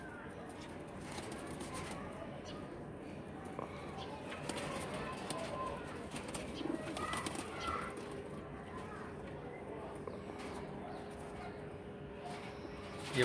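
Teddy pigeons coo softly, fairly close, over a steady background of clatter, with faint people's voices mixed in.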